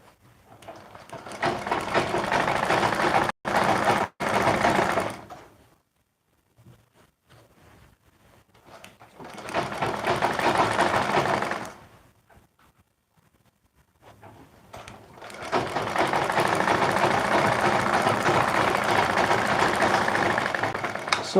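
Sewing machine stitching skirt fabric panels: fast, rhythmic mechanical running in several bursts of a few seconds each, separated by short quiet pauses, close and fairly loud.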